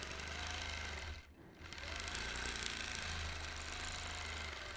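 A sewing machine runs steadily while doing free motion quilting, giving a low, fast, even hum that dips briefly once and then resumes, quiet and with no talk.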